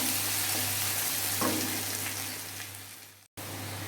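Onions and salt tipped into cumin seeds frying in hot oil, a steady loud sizzle with a brief splash and stir as they go in, hissing on evenly and briefly cutting out near the end.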